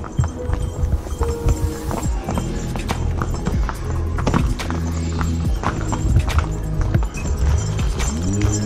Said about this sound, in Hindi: बहुत अच्छा घोड़ा चल रहा है, बहुत तंदुरुस्त घोड़ा है।